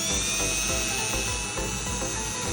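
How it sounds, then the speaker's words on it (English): A steady, high-pitched power drill bores through fiberglass on a Gheenoe boat for a jack plate install, whining continuously at close range with a constant tone and a low mechanical rumble underneath. "So we're gonna be drilling now through fiberglass."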